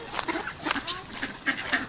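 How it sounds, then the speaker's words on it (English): Several ducks quack repeatedly outdoors along a path after rain, a series of close, fairly loud nasal calls spaced irregularly across the moment. "This is where the ducks rule."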